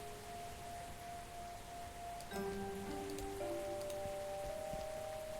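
Steady rain patters on a surface in the horror adventure game Gibbous: A Cthulhu Adventure, a soft continuous wash under faint tonal game music that thickens partway through.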